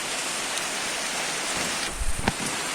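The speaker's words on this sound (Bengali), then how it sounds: "প্রচন্ড বৃষ্টি তো পড়ছেই" Heavy rain pours steadily outdoors, a dense, loud and continuous hiss of drops on surfaces with no talk over it.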